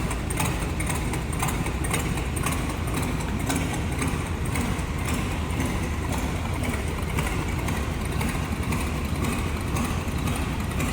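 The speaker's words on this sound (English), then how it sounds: "Gotta like this old school hot rod sound from that flatty." A 1931 Ford Model A roadster street rod with a flathead V8 idles steadily and close, a continuous low rumble with a faint uneven lope running unbroken throughout.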